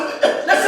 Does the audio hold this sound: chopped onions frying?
no